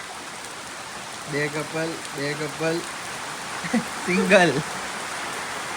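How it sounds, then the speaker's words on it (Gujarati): Steady rain pours down in Matheran, a soft continuous hiss filling the background while people talk intermittently over it. "સવારથી વરસાદ પડે છે"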